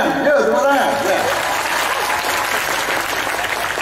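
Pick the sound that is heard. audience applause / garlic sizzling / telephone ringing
audience applause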